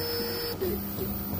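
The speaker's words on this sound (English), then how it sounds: "I'm actually just printing off a calibration test piece" A 3D printer fitted with TMC2100 stepper drivers prints a calibration test piece, giving a quiet, steady motor hum with a faint high whine and soft shifts in pitch as the head changes moves.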